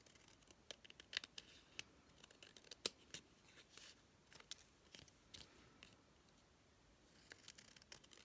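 Scissors snipping through damp, still-wet paper during a paper craft project, with a series of short, crisp cuts in uneven rhythm, close and fairly quiet, with no talking.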